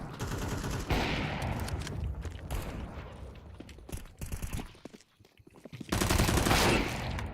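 Video game gunfire from a player's weapon during a match, rendered as sustained rapid bursts that run almost continuously, with a brief lull before a heavy, dense final burst; loud and busy throughout, no talking.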